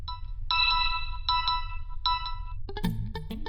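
A phone ringtone plays in repeated melodic bursts in an indoor household scene, loud and clear over a low background hum, followed by other brief sounds at the end.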